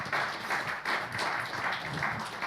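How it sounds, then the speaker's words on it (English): A conference audience at a manufacturing event applauds panelists, giving moderately loud, steady clapping with a slightly pulsing, uneven texture that holds throughout the short stretch. "Let's give our panelists another round of applause."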